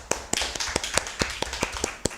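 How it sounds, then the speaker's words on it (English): Applause at a national youth debate: a short burst of brisk, evenly spaced claps, close and clear, with no talking over it. "A round of applause for her."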